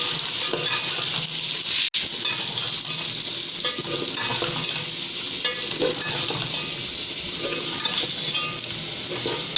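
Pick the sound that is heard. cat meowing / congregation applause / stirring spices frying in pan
stirring spices frying in pan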